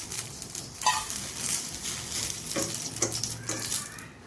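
Green chillies fry in hot oil in a steady, close sizzle, with occasional brighter crackles and stirring scrapes rising over the continuous hiss.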